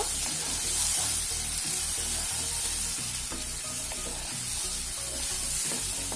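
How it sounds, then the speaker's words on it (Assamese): Onion paste frying in a pan while being stirred, a dense loud sizzle with rhythmic scraping strokes and a low rumbling undertone, close and unbroken with no talking. "এতিয়া ইয়াতে দি দিম পিয়াজৰ পেষ্ট এইখিনি এবাৰ ভালদৰে লৰাই ল'ব"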